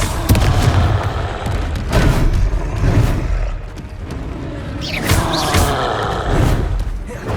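Confringo fire spell blasts in Hogwarts Legacy on a PS5 during a hard-difficulty boss fight, with repeated booming thuds and bursts over continuous loud battle noise and occasional voices.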